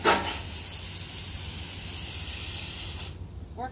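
A garden hose sprays water in a steady, loud, close hiss to rinse a dog run, continuing almost unbroken for about three seconds before cutting off, followed by a brief quiet tail.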